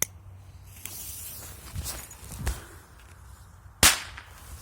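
A few sharp piccolo and TNT firecracker pops at uneven intervals, the last one loudest and closest, over quiet outdoor background noise.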